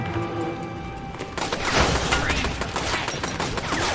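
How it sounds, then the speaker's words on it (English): Gunfire in the Bendy and the Dark Revival video game: a dense burst of rapid shots erupts partway through and continues loudly to the end, after a quieter stretch of game ambience. "She just shooting randomly."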